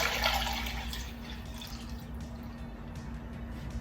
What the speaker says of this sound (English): you remember the broth that we made, the vegetable broth? I'm just going to empty it